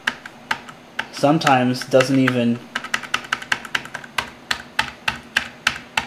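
Button presses on a Razer Nostromo gaming keypad click in a steady series of sharp, close taps, with someone speaking briefly over the first stretch before the keypresses continue alone.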